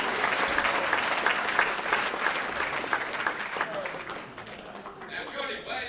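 Applause from a crowd at a comedy magic show at a convention, dense steady clapping that gradually thins out near the end as a voice begins speaking.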